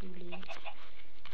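Minecraft chickens cluck in short game sound effects, a brief burst of clucks near the start and more calls later, mixed over a steady hum of game or background noise.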